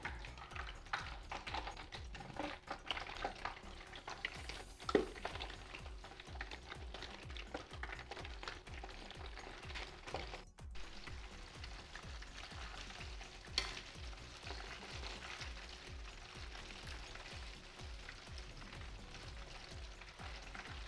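Breaded chicken legs deep frying in hot oil over a medium flame, a dense, continuous crackling sizzle with rapid tiny pops throughout, fairly faint and steady.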